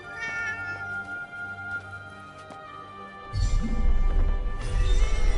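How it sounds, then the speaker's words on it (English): A cat meows in the video game Forspoken, a few clear close meows over a tonal musical score, followed by louder low rumbling game ambience. "A cat."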